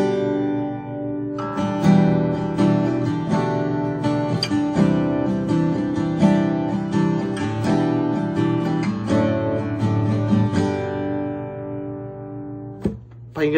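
Acoustic guitar captured through a phone camera's built-in microphone, strummed chords ringing steadily and fairly loud for about twelve seconds before a brief pause and a final pluck.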